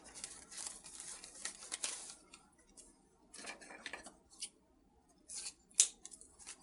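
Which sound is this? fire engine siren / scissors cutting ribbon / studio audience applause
scissors cutting ribbon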